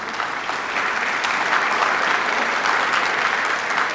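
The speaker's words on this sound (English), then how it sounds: "A big round of applause for such a warm welcome and being the pillar of the community, Mr. Deepak Doshi ji." Gala audience at an Akshaya Patra fundraiser in Chicago claps in a big round of applause for Mr. Deepak Doshi, a dense, steady wash of many hands that swells slightly after the first moment and holds throughout.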